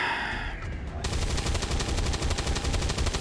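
Rapid automatic gunfire in XCOM 2: after a short lead-in, a loud sustained burst of rattling shots fires in quick even succession, close and harsh, continuing for over two seconds.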